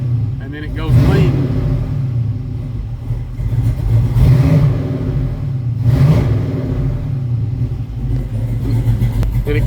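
A car engine fitted with a Holley carburetor idles after a cold start, running rich, with a deep, steady rumble and a few throaty swells in revs, close and loud throughout.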